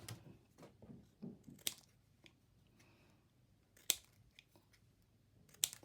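Scissors cutting paper into little squares for a junk journal, several crisp close snips spaced a second or two apart, quiet and clean with soft rustling between cuts.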